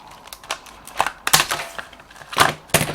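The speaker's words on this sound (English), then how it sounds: "I'll cut this across here to make it easy." Scissors snip through tool packaging in a shop, a handful of sharp, close crunchy cuts spaced irregularly over a quiet background.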